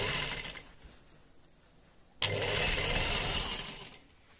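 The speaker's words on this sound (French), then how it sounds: "Je couds ici, j'assemble normalement, et je vais suivre le trait que j'ai tracé." A sewing machine stitches a belt in two close bursts, a steady whirring run that pauses briefly and then resumes louder, with no talking.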